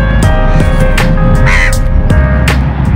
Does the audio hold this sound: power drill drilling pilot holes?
no